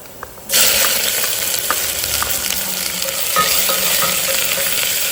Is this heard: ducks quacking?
no